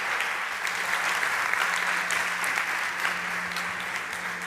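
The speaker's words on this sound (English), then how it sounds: "big round of applause for Nacho Tejero from Webex" Conference audience at the South Summit stage gives a sustained round of applause for a Webex speaker, steady dense clapping filling the hall with a faint low hum underneath.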